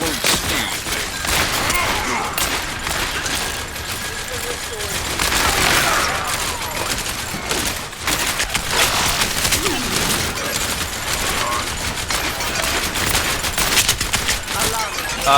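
Continuous dense gunfire and impacts from an Overwatch match with the McCree hero rattle on without a break, loud and close, with a voice talking over the shooting throughout.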